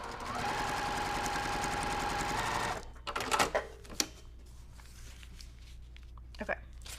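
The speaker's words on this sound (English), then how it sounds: "now I will just sew over that little section" A quilting sewing machine stitches quilt fabric in a fast, steady whir for nearly three seconds, then stops, leaving soft handling clicks and rustles with a voice nearby.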